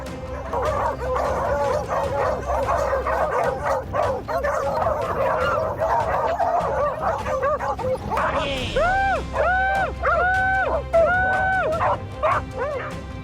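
Dogs bark and yip excitedly in a rapid, overlapping flurry, followed by a run of high rising whines and yelps, all close and loud.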